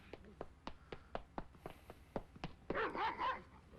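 A dog in a 1970s anime barks repeatedly in a quick, steady series of sharp yaps at moderate distance, followed by a burst of whining, yelping sounds at the end.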